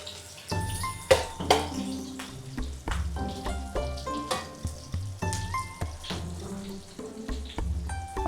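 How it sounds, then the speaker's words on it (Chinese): Scallions, chili, bay leaves and other leaves frying in oil in a wok, a steady sizzle broken by repeated clatters of stirring, with clinking and scraping throughout, close and fairly loud, no talk. "煎到它出香味。"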